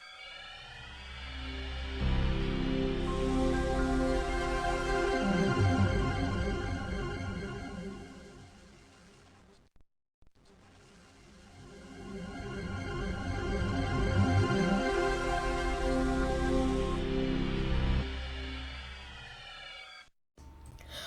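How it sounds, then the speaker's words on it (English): A lush synthesized Windows NT startup chime swells in and slowly fades, then plays again in reverse, building up and cutting off sharply. "And it has a very futuristic, I can say, startup sound."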